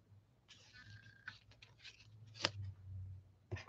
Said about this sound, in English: I'm going to cut this down a little bit